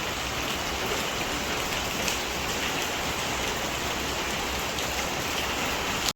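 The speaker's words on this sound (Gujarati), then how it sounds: "તો અત્યારે સાંજે મસ્ત વરસાદ આવતો હતો." Steady evening rain pours down without a break, a dense, even hiss of drops striking surfaces close by; the downpour carries on alone with no voices and cuts off abruptly at the very end.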